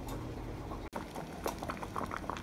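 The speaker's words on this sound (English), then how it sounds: "Boil your lids." Canning jar lids boiling in a pot of water, a close, busy bubbling patter with small popping bursts that continues after a brief dropout.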